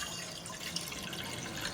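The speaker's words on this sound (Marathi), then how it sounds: "गॅसवर आपण कढई ठेवलेली आहे आणि त्यामध्ये आपल्याला थोडं पाणी घालायचं आहे" Water is poured into a kadhai sitting on a gas stove, making a faint, steady trickling splash that runs quietly the whole time.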